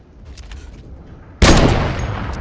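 A Fortnite sniper rifle fires a single loud, sharp shot after a quiet moment, and its rumbling tail fades slowly.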